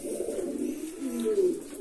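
Pigeons in an aviary coo steadily, with soft, low, rolling calls overlapping close by, one bird's coo rising above the rest near the end.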